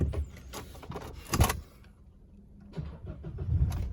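A 2018 Isuzu D-Max 1.9 Z Hilander pickup cranks and starts close by, a short whirring crank followed by the engine catching and settling into a low idle.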